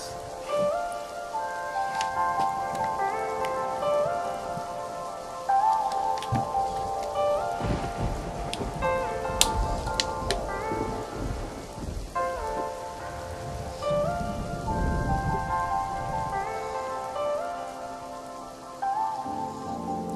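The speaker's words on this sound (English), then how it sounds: "Got some rain falling going on." Rain falls on a hard surface with a crackling, dripping patter while a melodic tune plays over it. Heavier bursts of rain rise and fall, and faint low rumbles suggest distant thunder.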